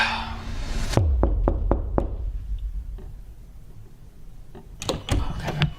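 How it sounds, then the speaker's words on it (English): Knuckles rap on a locked door: a quick run of five sharp knocks early on, a couple of softer taps after, then another cluster of knocks near the end, all close and dry against a quiet room. "If I knock and this door unlocks"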